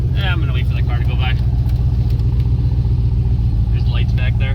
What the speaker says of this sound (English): I'm gonna wait for the car to go by.